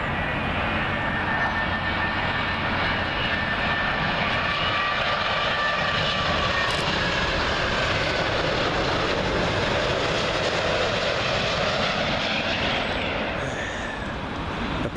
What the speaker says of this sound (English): Next up, Virgin Atlantic 787-9 Dreamliner in from Nassau.